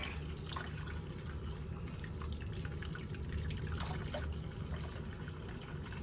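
Water rinses dyed hair, washing the colour out near the top of the head. A steady, close wash of pouring and splashing runs unbroken throughout, with no voices.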